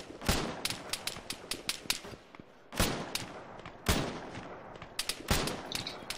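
Arma 3 gunfire during a long-range firefight, sharp separate shots cracking in an uneven rhythm, some close and loud, others quicker and lighter between them, with brief lulls, in a quiet field with no voices.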